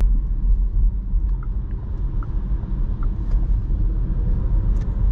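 A Volkswagen ID3 electric hatchback with 150 brake horsepower drives along a road, giving a steady low rumble of road and tyre noise inside the cabin with no engine note, continuous and fairly loud throughout.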